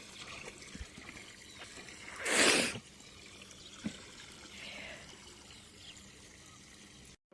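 A water motor fills a house tank, heard as a faint, continuous trickle with one brief louder gush of water near the start.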